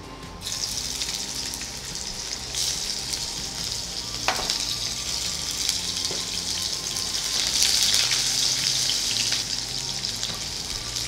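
Large-cut onions frying in hot oil give a steady, dense sizzle that holds for several seconds, close and even, swelling slightly louder toward the end with an occasional faint clink.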